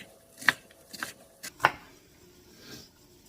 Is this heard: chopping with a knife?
yes